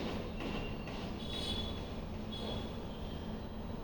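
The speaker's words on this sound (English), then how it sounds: "takes another train to go back home." A train runs along the rails with a steady rumbling roar, and brief high metallic squeals rise from the wheels now and then.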